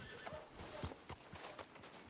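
A horse nearby gives a short whinny among soft irregular hoof clops and shuffling steps, all fairly faint and close to a quiet background.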